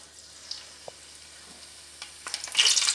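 Curry leaves hit hot oil in a tempering pan for chicken green masala, a soft sizzle rising to a louder crackling spit near the end, with light stirring clinks earlier.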